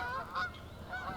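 A good-sized flock of geese honks while coming in to land outdoors, a few overlapping calls rising and falling over steady background noise, moderately loud and without talk.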